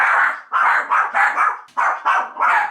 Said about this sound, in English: they have to be put in their crates while I'm filming or live streaming, because they bark